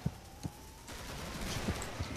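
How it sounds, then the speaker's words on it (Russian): Gunfire in the co-op shooter game Killing Floor, with a few short, muffled shots at irregular intervals over a steady game background. "Видишь, я его вынес с двух выстрелов."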